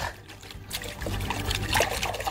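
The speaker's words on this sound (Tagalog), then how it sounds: "banlawin po natin sa tubig para makita natin yung kanyang mga ugat" Water trickles and splashes steadily while plant roots are rinsed during transplanting, close by with a continuous liquid rush.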